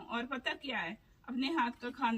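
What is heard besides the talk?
No everyday noise stands out behind the speech.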